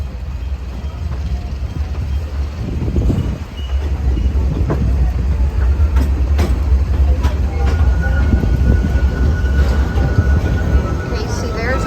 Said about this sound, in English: there's our little train, and what is this? I guess it's a steam engine